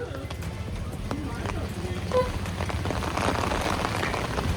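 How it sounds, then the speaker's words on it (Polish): Rain beginning to fall on a walk toward a beach on Lombok, Indonesia: a steady soft patter with scattered drops over low background noise, thickening slightly toward the end, with no talk. "Ale zaczęło padać."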